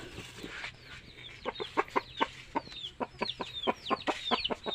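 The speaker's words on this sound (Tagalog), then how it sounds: "Bigyan natin yung manok guys." Chickens clucking close by at a rural home, a rapid irregular series of short clucks and calls growing busier, over a quiet outdoor background.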